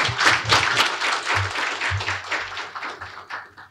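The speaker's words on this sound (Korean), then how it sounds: "큰 박수로 맞이하여 주시길 바랍니다" Audience applause at a natural gas industry forum as a speaker is welcomed, a brief burst of clapping with a few louder thuds, tapering off after a few seconds.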